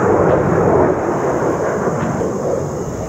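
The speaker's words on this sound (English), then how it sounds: "let's wait till this jet flies by" A jet aircraft passes overhead in an open outdoor setting, a loud continuous broadband roar that holds steady and then slowly eases, with no talking over it.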